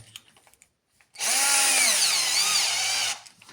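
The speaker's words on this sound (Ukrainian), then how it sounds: "Беремо сверло, п'ятерку. Тут з добрих таких сверл." A power drill fitted with a 5 mm bit bores steadily for about two seconds during fuel filter work on a Peugeot 5008, its whine loud and close, preceded by faint handling clicks and a short silence.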